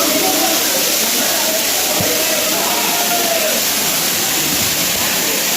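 Water pours down between hills at the Bhimunipadam waterfall, a loud, dense, unbroken rushing roar heard up close, with faint voices mixed into the spray.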